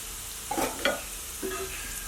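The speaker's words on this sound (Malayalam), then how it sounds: "ഇടക്കിടക്ക് രണ്ട് മൂന്ന് പ്രാവശ്യമായിട്ട് ഇളക്കി കൊടുക്കണം" Onion chutney mixture stirred in a hot pan, a soft constant sizzle with a few distinct spoon scrapes and clinks against the metal.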